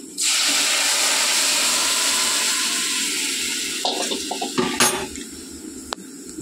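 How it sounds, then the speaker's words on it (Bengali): Lentil dal poured into a pan of fried onion, a steady loud splashing rush filling the first few seconds and tapering off, followed by a few clinks of a utensil against the pan. "ডালটা ঢেলে দেবো।"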